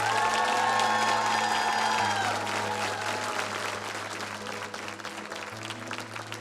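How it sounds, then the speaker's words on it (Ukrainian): Applause with some cheering from a theatre audience after a boy's emotional poetry recitation on a Ukrainian talent show, loud at first and then settling into steady clapping under sustained background music. "ваші оплески"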